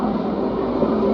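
A Vande Bharat Express train stands at Ahmedabad station, giving off a steady, fairly loud rumble and hum that fills the whole short moment without a break.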